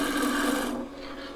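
A skew chisel cuts a taper into softwood spinning on a lathe at 1400 rpm, giving a close, steady rasping scrape that fades away after under a second.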